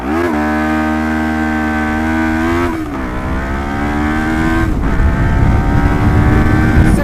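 A Lexmoto LXR380 motorcycle fitted with a Lextek full exhaust system, new ECU and baffle in accelerates hard, its engine note climbing through gears with brief dips at each shift, loud and close throughout, no speech.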